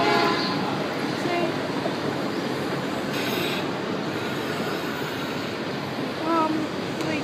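Model Union Pacific train running around a display layout in Chicago, its rumble and wheel noise steady at moderate distance, with a few faint squeals and chatter from people nearby.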